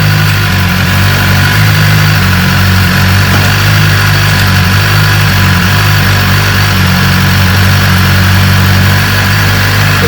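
A 2018 BMW S1000RR motorcycle engine idles steadily up close, a constant loud throbbing hum that holds even for the whole stretch without any talk.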